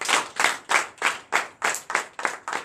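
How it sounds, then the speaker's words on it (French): Rhythmic unison clapping from a worship congregation at a night deliverance and prophecy service in Benin, about eight loud, evenly spaced claps with short gaps, no talk. "Nous donnons l'acclamation à Jésus."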